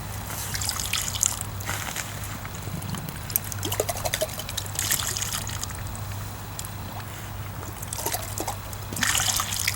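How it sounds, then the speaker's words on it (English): Water trickles and splashes as sample bottles are rinsed and emptied in a stream, with continuous close pouring and sloshing sounds, steady flowing water behind, and occasional handling noises. "We're going to start out by rinsing out the water bottles 3 times downstream of where we would like to sample."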